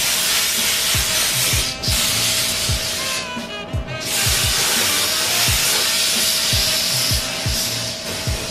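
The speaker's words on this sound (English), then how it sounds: "basically the whole entire van is gonna get sprayed with this color" A spray gun lays a red oxide base coat over a whole van, giving a steady close hiss throughout with faint rhythmic knocks and clatter underneath.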